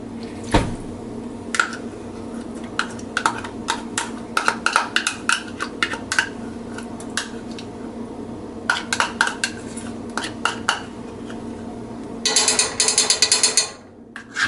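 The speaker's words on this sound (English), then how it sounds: "Let me grab a spoon out." A metal spoon pulled from a kitchen drawer, with a rattling clatter of cutlery and rapid clicking knocks through most of the stretch, then a denser jingle of silverware near the end before it stops.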